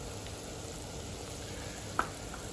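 Ginger garlic paste and green chilies fry in hot oil for baingan bharta, a soft steady sizzle with one brief clink partway through.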